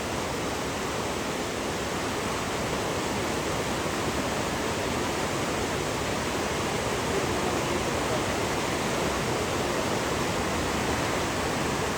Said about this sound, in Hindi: ये जहाँ पे पानी बड़ा उछल रहा है ना